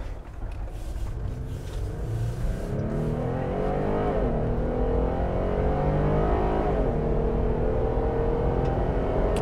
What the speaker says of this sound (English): But I actually quite like this V6 engine. It is a petrol engine.